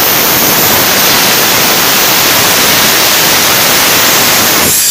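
Compressed air blasts from a pneumatic blow-off hose at a railway station once its valve is opened, a loud, harsh, unbroken hiss held at full force before cutting off sharply at the very end.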